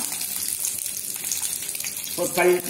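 Urad dal and dried red chillies fry in hot oil in a pan for an onion chutney, giving a steady close sizzle that swells briefly near the end.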